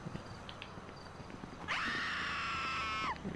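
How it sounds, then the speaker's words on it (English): A pedestrian in GTA 5 lets out a loud, sustained, wavering scream for over a second, close by, against quiet game ambience with faint hoof-like clops beforehand and no talking. "you screaming a little bit too loud now"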